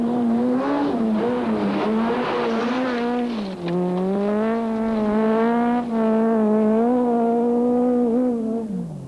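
A rally car at full commitment on a dirt stage in the 2003 Cape Rally, its engine holding a loud, sustained high-revving drone with brief dips at gear changes, close and continuous with no voices.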